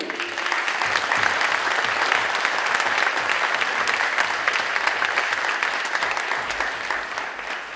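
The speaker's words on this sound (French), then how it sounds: "Je vous demande de les applaudir." An audience at a small music event applauds the technicians and helpers, giving steady, dense clapping that holds evenly throughout at close range before easing slightly near the end.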